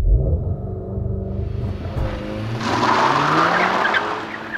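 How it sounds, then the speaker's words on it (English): A 2010 Mk6 Volkswagen GTI launching from a standstill with launch control, its tires squealing and skidding over a steady engine rumble that builds for several seconds. "Lots of tire squeal, but then it's good."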